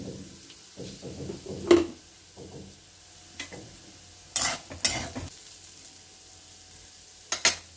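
Rice with a little salt and sugar, for a banana flower moti pulao, frying in a pan with quiet sizzling and sharp stirring scrapes: a spoon clatters and knocks against the metal several times.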